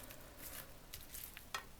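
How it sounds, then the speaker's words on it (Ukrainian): Quiet, soft sizzling from a frying pan with a tablespoon of oil, with faint crackles and a few small pops over a low hiss. "Це все на, на пательню. Добавляю ну, столову ложку десь олійки і ставимо"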